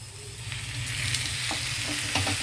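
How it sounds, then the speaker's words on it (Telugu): Korameenu fish pieces shallow-fry in a thin layer of oil on a flat pan, giving a steady, close crackling sizzle throughout with a few sharper pops and spatters. "ఈ ముక్కలు నేను ఫ్రై చేయడానికి పెట్టాను ఇదిగోండి కొద్దిగా ఆయిల్ వేస్తున్నాను"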